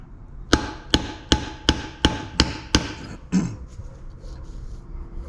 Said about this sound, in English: Now we just give it a couple gentle whacks just to make sure it's still going in evenly.